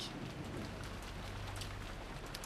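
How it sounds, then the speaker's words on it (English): Steady rain with gusting wind in the visual novel Umineko When They Cry, a constant dense wash of drops and low rumbling howl, loud and continuous with no voices. "Only the howl of the wind and rain."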